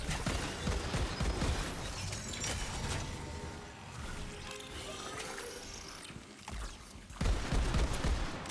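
Shotgun blasts at close range in a shooter video game, several loud booming shots spread across a busy, cluttered mix of game noise.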